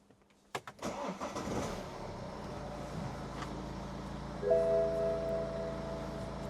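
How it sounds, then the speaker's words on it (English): A BMW car engine cranks and starts with a few sharp clicks and a whirring catch, then settles into a steady low idle, with a warning chime tone sounding briefly later. "if we start the car up"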